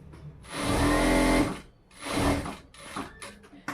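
A sewing machine stitches fabric for an urgent tailoring job, running in two loud bursts of steady motor whir separated by a short pause, then lighter intermittent running toward the end.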